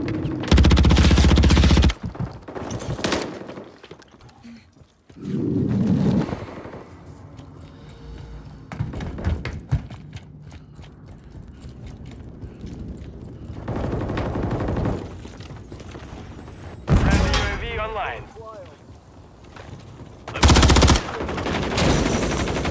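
Loud bursts of automatic gunfire and heavy shots break out in a Kill Confirmed match on the Highrise map in Call of Duty: Modern Warfare III. Several intense volleys alternate with quieter stretches of distant firing and movement.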